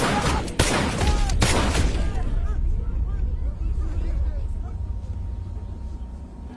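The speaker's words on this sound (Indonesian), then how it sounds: "Suruli langsung memberondong pistol hingga tewas." A rapid volley of loud, sharp pistol shots cracks in the first two seconds, then gives way to a lingering rumble and murmuring voices.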